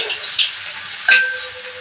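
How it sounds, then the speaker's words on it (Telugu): Potato chips fry in boiling oil, a steady loud sizzle and bubbling close up, with a couple of brief stirring knocks as more slices go in. "నూనె అయితే మరిగిపోతుంది ఇందులో వేసేస్తున్నాను"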